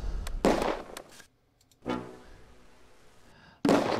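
Artillery rounds landing in Close Combat 2, World War II setting at a bridge: three sharp thumping impacts with decaying rumble, separated by short quiet gaps, near and fairly loud.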